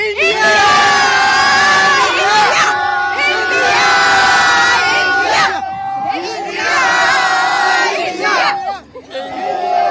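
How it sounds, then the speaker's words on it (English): A large crowd roars and cheers for Team India after a world championship win, loud waves of shouting and whooping that rise and fall in bursts. "Cheer for Team India."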